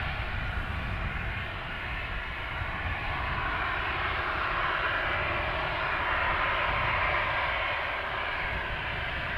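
A WestJet airliner departs for Winnipeg, its engines producing a broad, sustained roar that stays steady and moderately distant throughout, with no talking.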